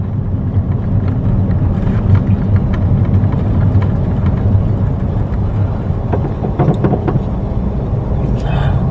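A car engine runs on a flat road during a driving lesson while the accelerator is pressed very gently. A loud, steady low rumble continues throughout, with faint clicks toward the end.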